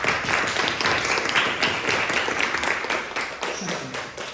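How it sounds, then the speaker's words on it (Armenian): An audience applauds students at an Armenian Catholic school event, with dense, sustained clapping that fills the room and tapers slightly toward the end. "Ծափարենք։"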